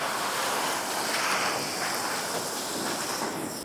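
Fast-flowing cold river water in a Kashmir valley, rushing in a steady, loud, broadband roar with no break, up close and without voices.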